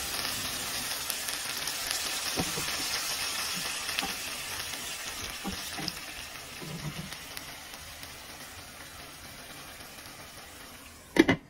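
Tuna simmers in a pan after half a cup of water and two teaspoons of vinegar go in, giving a steady, moderate sizzle and bubbling hiss with a few soft knocks and one sharp clatter near the end.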